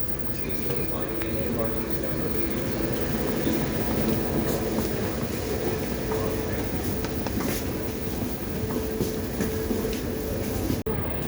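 Steady rumble and rattle of a Bangkok MRT underground metro train in motion, with people talking faintly in the background.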